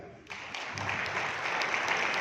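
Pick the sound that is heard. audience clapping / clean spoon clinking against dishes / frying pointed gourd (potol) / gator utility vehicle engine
audience clapping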